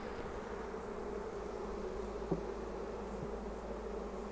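A low, steady drone of many honey bees fills the air around a nuc hive, continuous and close, with a couple of faint knocks from the box.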